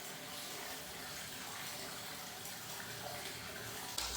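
Hot water runs and splashes steadily in a private onsen bath in Japan, a continuous broad wash of water sound close by with no talk.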